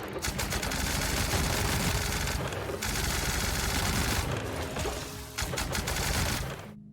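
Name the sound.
automatic weapon firing rapidly in a video game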